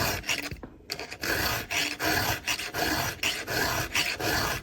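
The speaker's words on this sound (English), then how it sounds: "so I'm lifting up on the file every rub to try to take" A round file rasps against chainsaw chain teeth, with the file lifted on each stroke to take hook off the cutters. Loud, close, rhythmic strokes come in steady succession with brief gaps between them, and no voice is heard.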